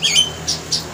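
A bird gives several short, harsh squawks in quick succession, close and fairly loud, with brief pauses between calls.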